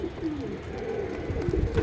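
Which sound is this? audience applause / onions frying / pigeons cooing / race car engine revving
pigeons cooing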